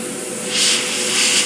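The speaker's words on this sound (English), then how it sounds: "and you can spray really small patterns" A steady, loud hiss of a spray gun, swelling in short bursts as the spray is applied, with no voices.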